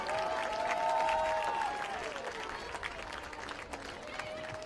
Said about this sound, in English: Let's give a round of applause for our PIAA District 3 Class 3A boys runner-up, the Warriors of Gettysburg High School